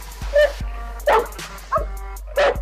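A dog gives several short, high yipping barks close by, separated by brief pauses, with a faint whine between them.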